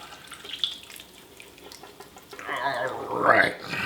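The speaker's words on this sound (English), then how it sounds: "I just pour all that through the strainer" Pan juices and baked bits from roasting a duck splash through a kitchen strainer, a short liquid pour rising into a burbling trickle near the end, close by.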